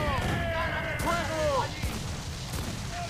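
Ship cannon fire during naval combat in Assassin's Creed IV Black Flag, shots coming from behind; heavy rumbling booms sit under game music and voices for the whole stretch.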